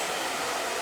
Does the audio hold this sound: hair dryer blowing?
yes